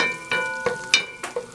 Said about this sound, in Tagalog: Kailangan nating saute.